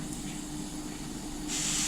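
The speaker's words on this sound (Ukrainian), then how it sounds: "Поки наш бекон шкварчить" Faint, steady sizzling hiss of bacon frying in a pan, swelling slightly louder near the end.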